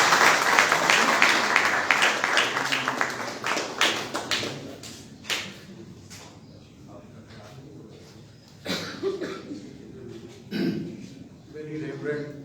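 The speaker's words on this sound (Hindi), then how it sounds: "आपकी भरपूर तालियों में" An audience at a book launch for Bishop Andrew Francis breaks into dense applause that thins out after a few seconds, leaving scattered claps, coughs and a speaking voice in a large room.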